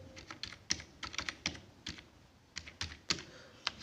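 Someone types details on a computer keyboard, giving close, quiet clicks in short irregular clusters with brief pauses between bursts of keystrokes. No one speaks.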